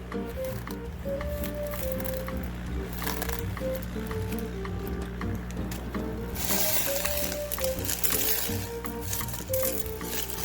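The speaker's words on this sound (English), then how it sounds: "We've got some ceramic media that's in water. Just drain some of this water out." Water drains from a rock tumbler barrel holding ceramic media, giving a steady wet trickle and squelch with small clinks of ceramic pieces, ending in a brighter, louder rush of splashing water near the end.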